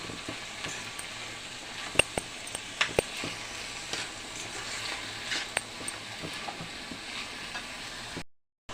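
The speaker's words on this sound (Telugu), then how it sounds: "బాగా కలుపుకొని చూడండి బాగా ఉడుకుతుంది కదా" A spoon stirring a pan of banana flower curry with tamarind pulp as it simmers, a soft continuous sizzle and bubble with scattered scraping clicks from the utensil, close and steady with no voices.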